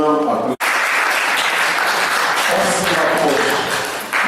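Audience applause at a live stage show, loud and dense sustained clapping after a brief cut, fading slightly toward the end.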